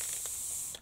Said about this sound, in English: floral spray